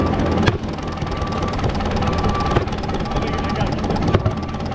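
A 1935 Allis Chalmers UC tractor engine turning over under choke without catching, a steady loud mechanical churn with sharp clanks recurring about every two seconds.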